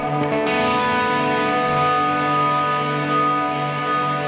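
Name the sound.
guitar pedal standard modulation effect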